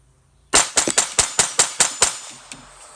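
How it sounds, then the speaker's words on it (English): A rimfire pistol with a 4 or 5 inch barrel, loaded with ELEY subsonic ammunition, fires eight rapid, sharp, close cracks in quick succession, followed by one fainter pop. "when you're pulling the trigger fast, if you're shooting a rimfire challenge or steel challenge, you transition the gun quickly"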